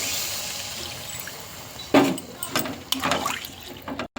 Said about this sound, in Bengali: জল দিয়ে দেবো এটাকে।